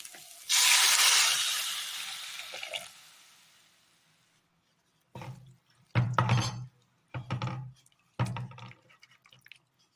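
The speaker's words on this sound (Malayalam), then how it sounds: "ഇതിലേക്ക് ഗ്രീൻ പീസിൻ്റെ സ്റ്റോക്ക് വാട്ടർ ഒഴിച്ചു കൊടുക്കാം." Green pea stock water poured into a curry pan for a Kerala curry, a loud splashing pour for about two seconds that fades, followed by several short clattering bursts of stirring or pan handling.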